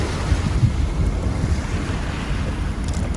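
Big, rolling sideways seas slosh and wash around a sailboat underway, with a steady roar of wind buffeting the microphone throughout; no one speaks.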